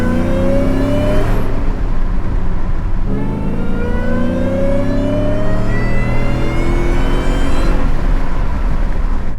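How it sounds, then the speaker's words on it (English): A 750 hp Shelby F150 truck accelerates hard, its engine note and supercharger whine rising through the gears in repeated climbing sweeps, loud and close from inside the cab. "I would love for the Raptor R to whine like that"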